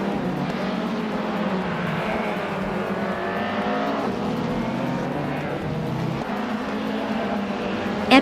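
Race cars in a racing video game, including a 1986 Alfa Romeo 75, drone steadily with sustained engine roar and shifting pitch as the pack runs close together, continuous and fairly loud throughout.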